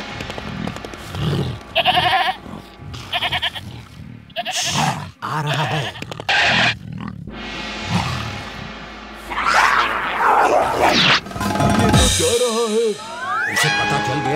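A cartoon goat bleats loudly several times in a row, the calls close and prominent with brief gaps, mixed with other animated sound effects.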